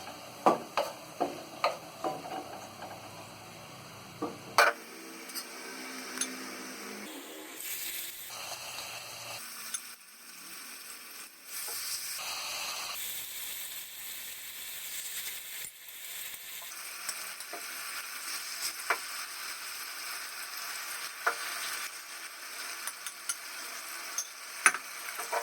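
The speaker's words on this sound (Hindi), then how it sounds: "ये हमने प्याज गोल्डन फ्राई कर ली है। अब हम इसमें मैरिनेट किया हुआ मटन" Marinated mutton sizzles in hot oil with golden fried onions in a pan, a steady close frying hiss broken by occasional ticks and clinks of stirring, with no talk.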